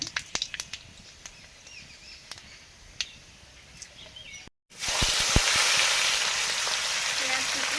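Panch phoron five-spice hits hot oil with dried red chillies, bursting into a loud, steady sizzle after a few scattered crackles and a brief silence.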